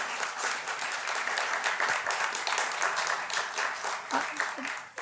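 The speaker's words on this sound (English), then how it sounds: "so give them a round of applause." Lecture audience applauding the event's sponsors, a sustained, even wash of many hands clapping at moderate volume, with a few brief voice sounds near the end.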